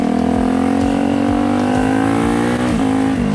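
A turbocharged Honda CRF 450 supermoto motorcycle engine roars close and loud, holding a high steady note that pulses and rises under load with no talk.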